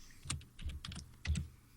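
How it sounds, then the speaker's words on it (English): A computer keyboard is typed on in a few quick, uneven clusters of clicky keystrokes, moderately close and with no talking over them. "Someone's typing."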